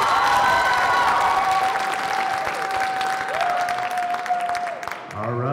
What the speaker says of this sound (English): Let's give our number three performer,